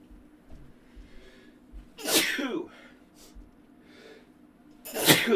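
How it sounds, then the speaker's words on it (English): A single loud sneeze bursts out near the middle, preceded by a quick inhale, with a second sharp sneeze-like burst at the end; quiet room otherwise. "Guys, I gotta sneeze."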